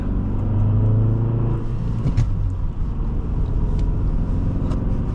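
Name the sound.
2008 Nissan Altima 2.5 S manual sedan accelerating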